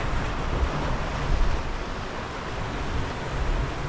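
Choppy, rough sea surf at the shore on a winter fishing outing, a steady broadband wash of waves with slight surges and some wind buffeting on the microphone, continuous throughout with no talking.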